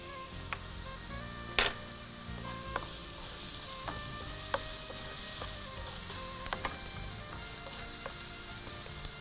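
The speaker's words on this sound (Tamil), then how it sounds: "இப்போ இது நல்லா வெங்காயம் வதங்குது இல்லையா" Onions sauté in oil with a steady, soft sizzle, punctuated by a few light clinks of a utensil against the pan.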